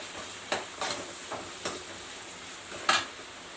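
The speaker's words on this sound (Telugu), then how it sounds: "అందుకే ఆనియన్స్ కొంచెం ఎక్కువ వేసుకుంటాం. కొంచెం బాగా వేగాలి." Onions for a chicken curry fry in a pan with a soft continuous sizzle, broken by a few sharp scrapes and clinks as they are stirred.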